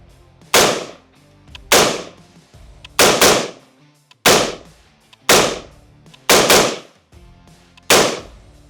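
A Radical Firearms RF-15 rifle with a mud-fouled bolt fires seven loud, sharp shots at a steady pace, about one per second, each cracking with a short ringing decay.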